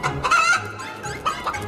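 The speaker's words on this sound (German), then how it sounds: "Das Huhn, Hilfe! Es verfolgt mich!" A chicken crows and clucks in a cartoon setting, loud and close, with a strained, rising call broken into short squawks and no speech over it.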